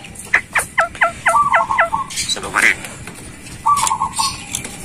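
A myna bird (jalak) gives rapid series of sharp, repeated chirping calls in bursts, loud and close, with short gaps and some background rustle between phrases.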